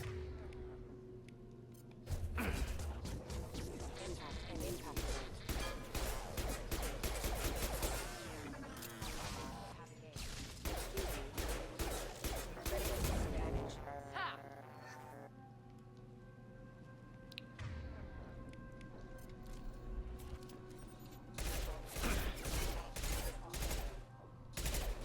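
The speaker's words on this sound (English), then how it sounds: "I'm not a fan of the submachine guns." Rapid submachine gun fire in the Mass Effect 2 video game, dense loud automatic bursts repeating through combat with brief pauses, layered over game sound effects and a steady background hum.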